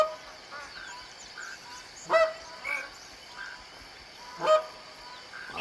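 Magpie geese at Picabeen Bay give several loud nasal honks spaced a few seconds apart, some near and some more distant, over a quiet outdoor background.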